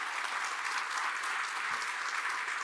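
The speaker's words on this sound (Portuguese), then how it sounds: "Uma salva de palmas ao nosso magistrado baiano" Steady applause from an audience at a restorative justice event honoring a Bahian magistrate, a moderately loud wash of clapping held evenly from start to finish.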